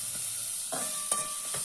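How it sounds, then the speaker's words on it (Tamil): Onions fry with ginger garlic paste in a pan for sweet corn fried rice, giving a constant soft sizzle broken by a few quiet stirring scrapes, with no talking. "லைட்டாக வதக்கியாச்சு வெங்காயத்தை"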